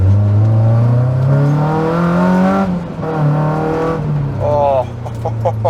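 Engine of a Honda S2000 with a swapped-in K24 rising through a short second gear, a loud, close, steadily climbing drone with strong harmonics, dropping back and climbing again; quick rev blips near the end.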